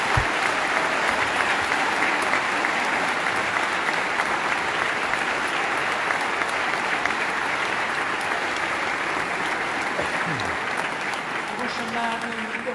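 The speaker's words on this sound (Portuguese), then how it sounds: "Um forte aplauso para o nosso maestro." Audience at a Christmas Mass concert in Vizela applauds the conductor with loud, sustained clapping that holds steady for the whole stretch and eases only slightly at the end.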